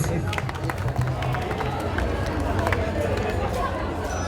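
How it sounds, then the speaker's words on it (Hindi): An audience at a college Independence Day program applauding, a continuous wash of clapping with crowd chatter mixed in, steady and fairly loud for the whole stretch. "तो जोरदार तालियों के साथ स्वागत करें"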